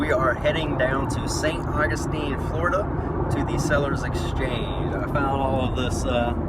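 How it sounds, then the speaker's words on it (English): Steady low road rumble fills the cabin of a moving car on the way to St. Augustine, Florida, running constantly beneath someone talking close to the microphone. "pardon the road noise"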